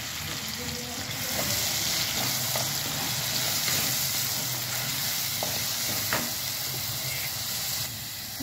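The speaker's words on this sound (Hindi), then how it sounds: "अदरक और हरी मिर्च अब इसमें टमाटर प्यूरी डाल दें।" Tomato puree goes into a hot pan of ginger and green chilies, giving a steady, close sizzle and hiss with faint stirring scrapes throughout.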